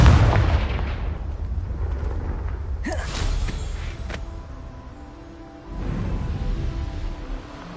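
A Confringo blasting spell explodes in Hogwarts Legacy: a heavy boom with a sharp crack in the middle, then rumbling debris and a second swelling blast, loud and close with no talk.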